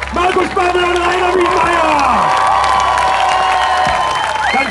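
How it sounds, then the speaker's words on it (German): Fans at the VfB season opening cheer for the team coaches, a loud burst of shouting and whooping voices over clapping, dense and close throughout. "Applaus, wo sind die Hände für Markus Babbel und Rainer"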